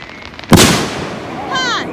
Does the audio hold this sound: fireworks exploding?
yes